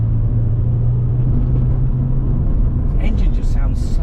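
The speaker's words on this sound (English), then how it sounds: "The engine just sounds so good." An MG ZS 180 Monogram Nocturne's engine hums low and steady from inside the cabin while driving, a continuous drone with someone talking over it throughout.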